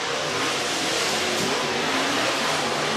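Dirt track race car engines roaring during hot laps at Screven Motor Speedway in Sylvania, Georgia, a dense, continuous engine drone holding a steady loud level throughout.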